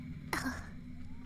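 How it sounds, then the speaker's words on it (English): A single short, fairly faint burp rises abruptly from a quiet background and fades within a fraction of a second. "That was a burp."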